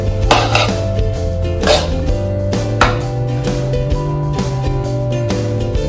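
A salad being mixed in a bowl with a utensil: loud, close clinks and scrapes against the bowl in an irregular rhythm, with brief sharper knocks, and no talk.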